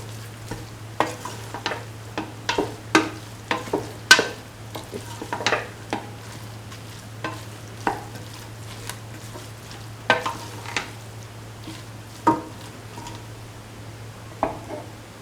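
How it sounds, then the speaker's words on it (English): Cauliflower and bottle gourd rice is stirred in a frying pan, with irregular spatula scrapes and taps over a quiet sizzle and a low steady hum. "Thoroughly mix in the rice, then cook for 2 to 3 minutes."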